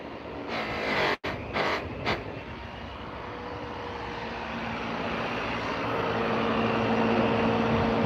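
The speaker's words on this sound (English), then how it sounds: "Got to rake your wheel before you start." A polisher motor drones steadily while a rake is dragged across the spinning buffing wheel, adding a harsh scraping hiss that grows slightly louder toward the end.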